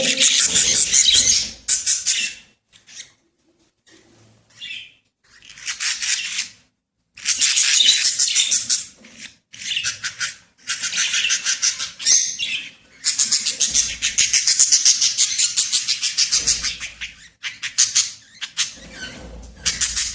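Young lovebird chicks in a nest box, bursts of shrill, rapid chirping and squeaking that come and go with brief pauses, close and loud.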